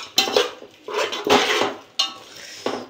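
A metal spoon scrapes and clanks in a cooking pot while stirring a tomato rice mixture, in three or four loud bursts separated by brief pauses, close by and with no talk.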